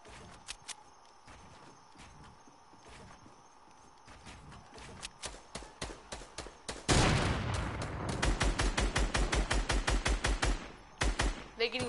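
Gunfire in a video game arena: sharp, loud cracks that come sparsely at first, then turn into dense, rapid bursts of repeated shots, with faint talk underneath.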